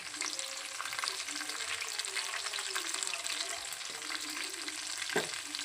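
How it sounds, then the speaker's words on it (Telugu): Chopped onions and green chillies fry in a hot pan with a steady, loud, close sizzle that never lets up, and a spatula scrapes and stirs now and then. "వీటిని కొంచెం ఎర్రగా వేయించుకోవాలి."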